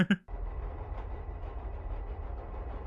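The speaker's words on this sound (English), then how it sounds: "Oh, they're ramming a train through the building." A subway train ramming through a building in a Daredevil episode rumbles as a deep, steady low roar after a brief sharp burst at the start, continuous and moderately loud.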